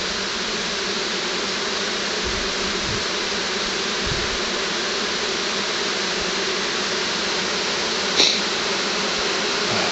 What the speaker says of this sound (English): the buzzing's really picking up.